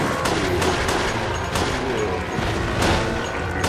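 Luger pistol fire in the shooter game Resident Evil Chronicles: a rapid run of loud, sharp shots mixed with crashing impacts, repeating steadily and close up with no pauses.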